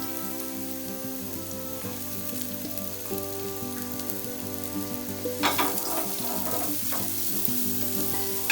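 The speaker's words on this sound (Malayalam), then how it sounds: "ഇത് നമ്മൾ ഒന്നും കൂടി നല്ല ഫ്രൈ ചെയ്യും" Ginger and chopped garlic frying for pork adobo, a steady close sizzle that bursts louder and crackles for a couple of seconds as more is stirred in, with background music underneath.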